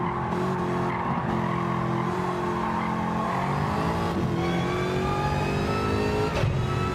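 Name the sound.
Pagani Huayra racing car engine in video game Gran Turismo 7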